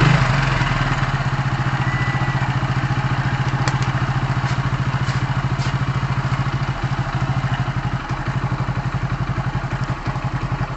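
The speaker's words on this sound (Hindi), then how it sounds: "अब हम गाड़ी को स्टार्ट करेंगे टैकोमीटर के जरिए से" A Hero HF Deluxe motorcycle engine idles steadily close by, giving a continuous low, even putter with a fine rapid pulsing rhythm and no voices over it.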